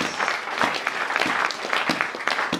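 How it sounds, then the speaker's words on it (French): A church congregation at a prayer gathering claps together in lively, rhythmic applause, dense and close, lasting a few seconds. "Let us clap our hands for the Lord Jesus."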